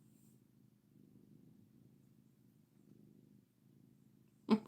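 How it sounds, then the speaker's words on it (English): A pet cat purrs softly and steadily at close range, a low rhythmic rumble that goes on for several seconds before a brief louder rustle at the end. "See if y'all can hear her purring."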